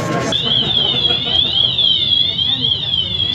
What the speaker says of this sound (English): we are just dinking around here with the freaking fire alarm now